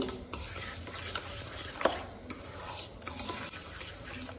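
Ingredients with salt and sugar being stirred and mixed by hand in a bowl, soft scraping and occasional light clinks of utensils, fairly quiet and close.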